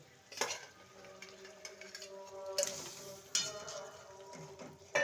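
Fried prawns dropped into a simmering malai curry and stirred, soft bubbling under quiet clinks and scrapes of a utensil against the pan, with a few sharper knocks.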